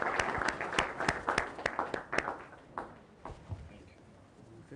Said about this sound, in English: A round of applause for him as he comes,